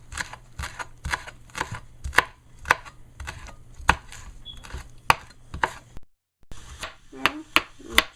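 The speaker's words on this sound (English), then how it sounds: "I'm going to chop everything up now" A knife chops vegetables for beef stew on a cutting board in steady, sharp thuds, close and crisp, with a brief pause near the end.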